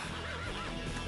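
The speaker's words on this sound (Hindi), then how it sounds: "क्या खूबसूरत घोड़ा है" A horse neighs and whinnies in a city street setting, a short, fairly faint call heard without any talking.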